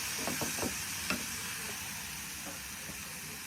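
Chicken is stirred into a curry in a pan, a few scraping spoon strokes at the start over a soft, quiet sizzle that hisses on alone.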